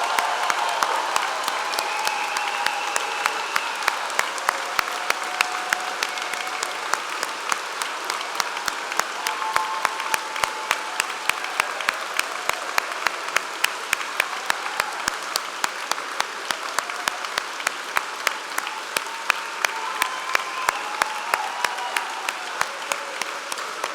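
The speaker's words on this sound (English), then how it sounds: "give this amazing group of people one last huge round of applause" A large audience at a university degree ceremony in a London concert hall applauds graduates with sustained, dense clapping that holds at a steady loud level throughout, with faint crowd murmur beneath.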